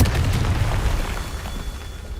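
A Confringo fire spell explodes in the video game Hogwarts Legacy, giving a loud, deep boom with a rumbling blast that rolls on steadily for about two seconds, with no voices over it.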